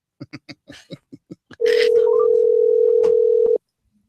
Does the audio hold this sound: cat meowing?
no